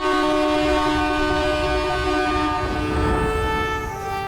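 A train horn blares loud and sustained over the rumble of rolling railcars in the DUNKI film trailer, a steady chord-like blast lasting several seconds with no speech.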